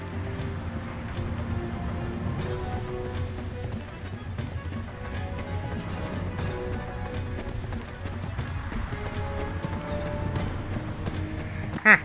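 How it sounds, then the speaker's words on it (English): Loud, continuous footsteps in the game Final Fantasy X-2 Remaster, a steady clattering patter over a busy background of game music and ambience throughout. "They really did make the footsteps in this game so loud for some reason."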